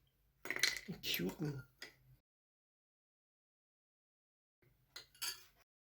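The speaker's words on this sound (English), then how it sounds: "Now I drop 2 ice cubes." Two ice cubes drop into a glass of kumquat iced tea, sharp close clinks and rattles in a short cluster followed by a quieter second burst after a silent pause.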